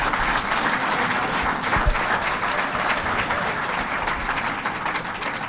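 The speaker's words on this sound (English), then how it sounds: "Let's give him a round of applause." A crowd applauds Steve Bellone at a governor's announcement event, loud sustained clapping that fills the room evenly for several seconds with no talk over it.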